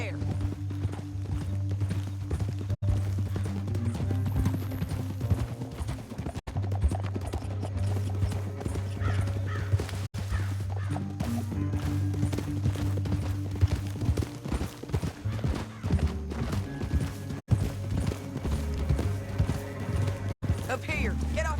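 Rhythmic hoofbeats of horses galloping at a steady pace in the video game Red Dead Redemption 2, with a low musical drone and occasional voices mixed underneath.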